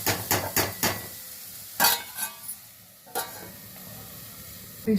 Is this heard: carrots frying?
yes